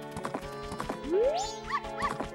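A horse clip-clops at a steady pace in the video game Majora's Mask, rhythmic hoofbeats close up, with a short rising whinny in the middle and brief game effects afterward.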